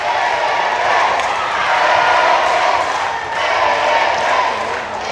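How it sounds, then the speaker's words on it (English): A large Philippine crowd roars and cheers throughout a SEA Games boxing bout, a dense sustained wash of voices that swells and dips in waves. "Now the Philippine crowd."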